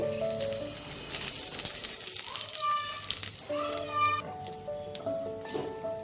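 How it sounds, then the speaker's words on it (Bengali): Cumin seeds fry in hot oil with a soft, crackling sizzle that runs throughout beneath background music. "এবার আমি জিরেটা দিয়ে দিচ্ছি"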